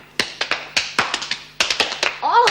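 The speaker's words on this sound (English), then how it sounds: "Let's give the new governor a little clap." A group of women in a prison clap briefly for a new governor, irregular sharp claps in quick bursts, fairly close, with a voice starting to speak at the end.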